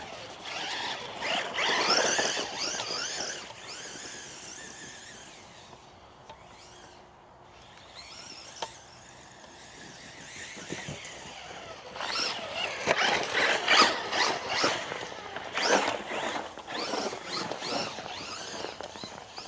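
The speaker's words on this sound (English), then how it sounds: "you just see how it's ripping through the yard and stuff" Traxxas Mini Maxx RC truck tearing across a backyard, its buzzy motor and scrabbling tires rising and fading as it passes, loudest in bursts near the start and again toward the end.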